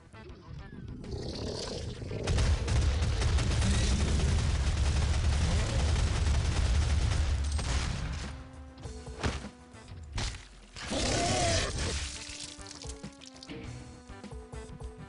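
A shotgun in the DOOM video game fires amid heavy, booming combat noise, with loud blasts and explosive rumbles over several seconds, broken by brief quieter gaps.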